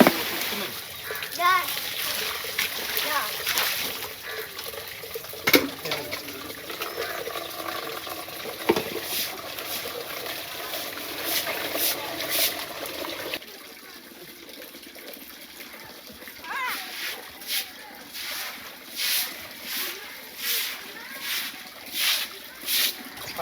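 Splashing and gushing water while motorbikes are washed at home, irregular bursts of splatter with a voice and other talk running underneath.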